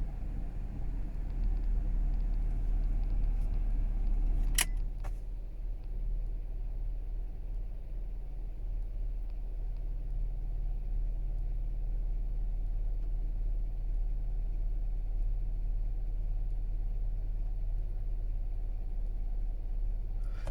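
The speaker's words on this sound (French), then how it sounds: "je vais essayer de laisser tourner le véhicule au ralenti à chaud" A warm Toyota Yaris engine idles steadily with a low, even hum, running alone for about twenty seconds after a brief click near the start.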